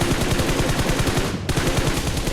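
Automatic gunfire in the mobile battle royale game BGMI: a dense, loud, continuous burst of rapid shots with no break, close and punchy.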